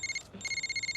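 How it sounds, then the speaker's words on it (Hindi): A phone rings with a repeating electronic tone, two short bursts of a steady high trill broken by a brief gap, close and fairly quiet, with no voices over it. "उनका ही फोन है।"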